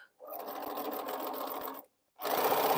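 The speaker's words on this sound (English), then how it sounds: "So I want to backstitch at the bottom, because that's going to be my outer seam." A sewing machine backstitches a seam on a T-shirt quilt, running in a steady close whir for over a second and a half, stopping briefly, then starting again.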